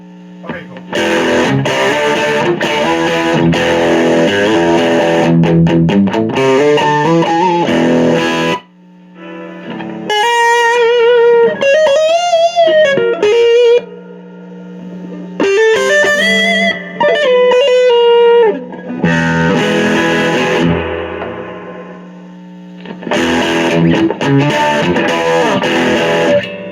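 An electric guitar played through a Fender Vaporizer amplifier gives heavily distorted, effects-laden chords and sustained bent notes, loud and close. Bursts of playing are split by short pauses.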